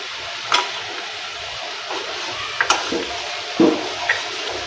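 Chopped tomatoes go into a pan of onions already browned for several minutes, for a Gujarati papad curry, giving a steady broadband sizzle with a few sharp clinks and stirring scrapes near the mic and no talking.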